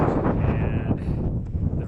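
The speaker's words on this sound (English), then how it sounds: "It is so incredibly windy out here" Strong wind buffets the microphone in gusts on the Navajo Trail between the Kaibab Plateau and the Vermilion Cliffs, a loud rough roar that rises and dips.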